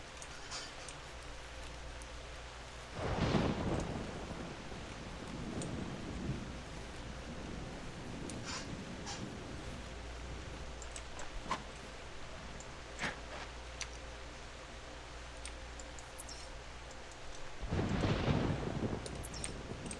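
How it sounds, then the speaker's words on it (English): Jungle ambience from the video game theHunter: Primal, with steady rain hiss and two deep rolls of thunder, one early and one near the end, both quiet and distant. "It really sounds like you're in the middle of a jungle"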